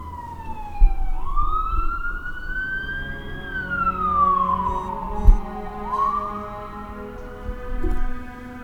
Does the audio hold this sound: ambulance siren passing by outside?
yes